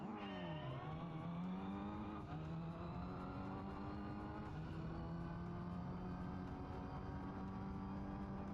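Toyota Corolla rally car in the Gran Turismo 3 video game on a Swiss Alps stage, its engine droning steadily and rising and falling in pitch as it revs through gears, loud and continuous with no talk.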